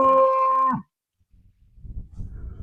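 A cow gives one loud, close, drawn-out moo that stops abruptly, followed by quiet and then soft rustling and low shuffling noises from livestock on grazing pasture.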